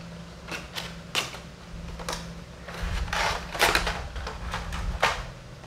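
Cardboard and plastic handling sounds from unboxing an S.H.Figuarts Sasuke Uchiha limited edition action figure, with a series of sharp clicks, taps and rustles, close and fairly loud, with no talking.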